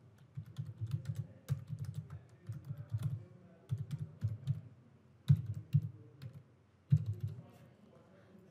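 Card details typed on a computer keyboard, with bursts of quick close key clicks and brief pauses between them, alone with no talk.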